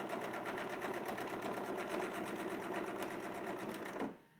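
A sewing machine stitches a quilt triangle with a steady, rapid needle rhythm that runs loud and close for about four seconds, then stops abruptly.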